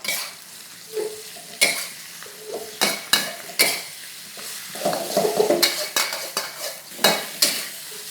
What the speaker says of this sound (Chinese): 这个青椒然后这个大蒜也一起开点火直接大火了炒一炒